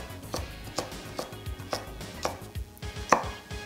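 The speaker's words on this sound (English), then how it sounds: "I'll just cut it in half a couple of times and then just chop it up." A knife chops a carrot on a cutting board with a run of sharp, even taps at a quick steady pace, close by and alone.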